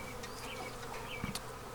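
Honey bees from a plastic package cage buzz steadily as they are shaken out during a hive installation, a close, continuous drone with a brief thump partway through.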